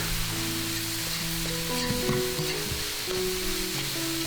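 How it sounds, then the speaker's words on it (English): Steady sizzling from a hot pan with scraping and tossing sounds as shrimp fried rice is stir fried with sauce, continuous and close, no talking. "keep stir frying"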